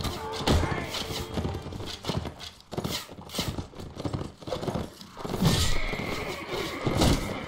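Horse hooves clip-clop in Mount and Blade: Warband, a medieval battle game, with repeated thudding steps and a brief whinny amid busy battle noise.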